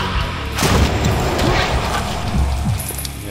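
Enemy blowing up in the shooter game Painkiller, a dense booming burst with crashing debris that swells near the start and rolls on over game noise for a few seconds.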